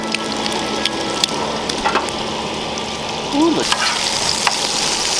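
Lunch sizzles and fries in a pan on a Washington Pacific Coast beach, a steady crackling hiss with occasional pops and stirring scrapes, close up, and a short spoken remark partway through.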